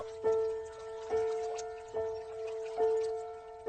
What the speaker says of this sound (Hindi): नदी के पानी की आवाज गूंज रही थी